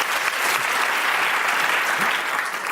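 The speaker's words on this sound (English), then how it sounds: "Round of applause to Sophie and all of our obsessies." A comedy show's studio audience applauds, a dense, even roar of clapping held at full strength throughout the short stretch.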